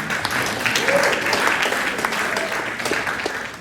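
An audience at a film talk claps steadily, a dense even round of applause that holds for the whole stretch.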